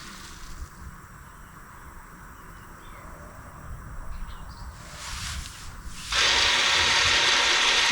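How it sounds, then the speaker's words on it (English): An Audi's electric parking brake motor whirs faintly as it retracts the rear caliper piston into service mode, a quiet mechanical grinding before a louder, steady hiss takes over near the end. "it's releasing the parking. It releases the piston, so it's putting it into the service mode"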